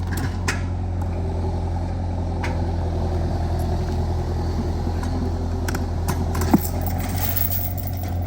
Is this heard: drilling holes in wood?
no